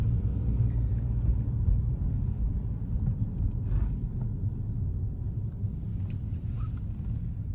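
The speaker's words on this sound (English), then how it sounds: "cross Midlothian Turnpike, which is a 4-lane road with cars doing 50 plus miles per hour" Steady low rumble of traffic on a four-lane turnpike with cars doing over 50 mph, a continuous roar with no distinct single pass-bys and some wind buffeting on the microphone.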